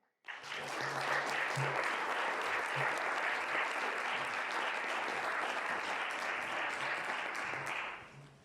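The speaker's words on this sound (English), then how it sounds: "So please join me with a round of applause in welcoming Pacho." Sustained applause from a conference audience welcoming a speaker at a climate event opening, a dense, steady clatter of many hands that begins abruptly and holds evenly for about eight seconds before fading out.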